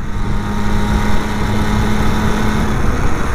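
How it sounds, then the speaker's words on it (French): A Motobécane MBK AV88 moped, nicknamed la bleue, runs on a sloped bend, its small engine giving a loud, close, steady buzzing drone with a constant tonal hum and no voices. "Écoutez-moi ce bruit du moteur."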